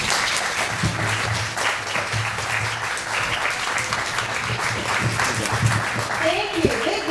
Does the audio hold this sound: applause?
yes